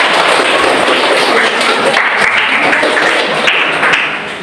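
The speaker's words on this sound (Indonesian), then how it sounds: "Beri tepuk tangan." A classroom of students applauds, a loud, close burst of clapping with sharp individual hand claps and thumps mixed in, tapering off at the end.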